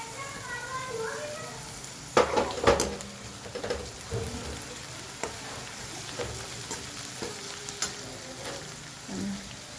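Chopped onion and capsicum fry in a pan for a paneer dish, giving a steady soft sizzle broken by scraping stirs and a few sharper clatters, with faint voices in the background.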